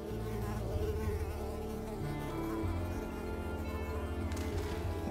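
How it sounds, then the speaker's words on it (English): Buzzing mosquitoes in the video game Unravel form a close, continuous whine with wavering pitch, swelling and dipping as the insects circle for several seconds. "these mosquitoes, that's realistic right there"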